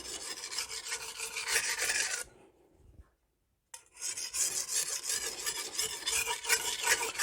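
An 8-inch Magnacut steel chef's knife is honed on a Norton Crystolon silicon carbide stone, giving steady, close gritty rasping strokes that stop briefly into near silence midway, then resume just as strongly.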